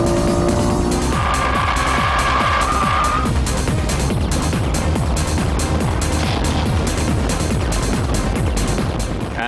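A Honda NSX-R driven flat out on the Nürburgring Nordschleife through Fuchsröhre at over 220 km/h on Bridgestone sports tires, a loud continuous engine howl with rising and falling revs and gear changes.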